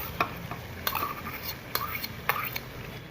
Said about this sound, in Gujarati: આદુ મરચાંની પેસ્ટ નાખી હવે